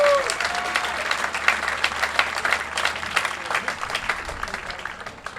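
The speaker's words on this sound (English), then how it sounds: "Let's give him a round of applause." An audience at a baseball game, Newport Gulls versus New Bedford Bay Sox, claps in sustained, fairly loud applause from a spread-out crowd that gradually thins toward the end.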